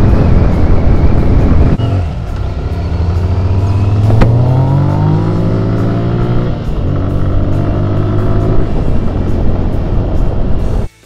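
A 2023 Kawasaki Z900 motorcycle carrying two riders revs loud and close, engine pitch climbing through a gear then dropping and pulling again, a steady rising drone with no voices.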